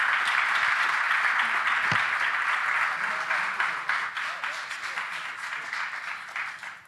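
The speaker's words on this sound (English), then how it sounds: "please join me with to applaud for panelists" Audience at a panel session of a security forum in Vilnius applauding the panelists, sustained dense clapping that fills the room for several seconds and slowly tapers off.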